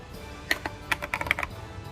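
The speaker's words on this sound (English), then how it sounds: "This is my new keyboard. Oh my god, it has a light." A new backlit computer keyboard clicks under a short burst of typing, with several sharp close keystrokes spaced irregularly over a quiet background.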